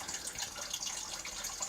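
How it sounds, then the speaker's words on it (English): Faint, steady hiss of water running from a faucet inside a converted bus, turned barely on after a drain freeze, with no talking. "I got running water."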